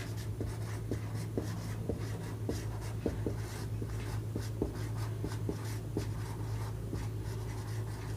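Handwriting during a maths lesson on sequences and series: a steady run of short scratching strokes, close and distinct, over a low constant hum with no talking.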